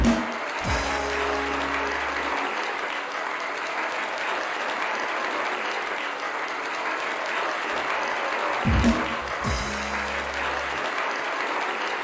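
Studio audience at a late-night talk show breaks into sustained, even applause that runs loud and unbroken throughout, with brief low thuds near the start and end.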